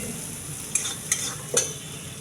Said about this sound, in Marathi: आता तो भात आपण फोडणीमध्ये घालणार आहोत